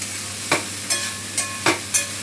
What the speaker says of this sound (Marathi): थोडीशी परतून घेतली